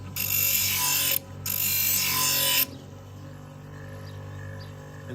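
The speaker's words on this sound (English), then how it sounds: "Even when you're grinding just a small patch that's still too thick, you still want to just use slow methodical sweeps" A blade shear grinding on a grinder, two loud sustained harsh bursts of grinding, close, with a short break between them, then a quieter mechanical hum; no talking.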